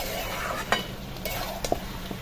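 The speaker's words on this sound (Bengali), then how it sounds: "মশলা দিয়ে এখন মাংসটা কষিয়ে নিচ্ছি" Chicken frying over a clay earthen stove, sizzling steadily as meat and spices are stirred in a pan, with occasional scraping knocks from the spoon, close and continuous.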